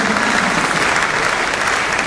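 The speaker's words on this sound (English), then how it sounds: "Please, clap for the government." Dense, loud applause from a university congregation audience fills the whole stretch, a continuous even wash of many hands clapping with no break or speech.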